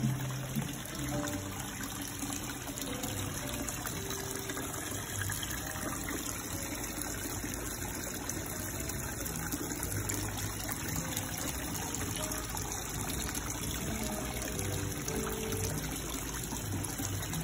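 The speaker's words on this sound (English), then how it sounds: "You guys can just take in the sounds of the water." Water trickling and flowing in a fish pond, a steady unbroken wash of splashing and dribbling outdoors that holds at an even level throughout with no voices.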